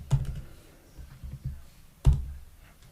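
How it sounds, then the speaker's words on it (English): Computer keyboard keys tapped in a few sparse, close clicks with quiet pauses between them. "So we'll just type iPhone"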